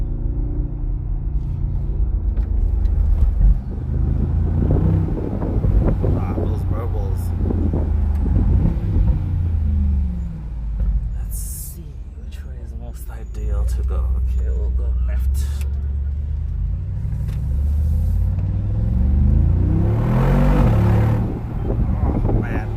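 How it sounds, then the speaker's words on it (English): A 2019 Mercedes-AMG G63 with its 4-liter bi-turbo V8 accelerating through streets, a deep engine rumble swelling and easing with wind noise while someone talks over it throughout. "underneath the bonnet you have a 4-liter bi-turbo V8 making 430 kilowatts"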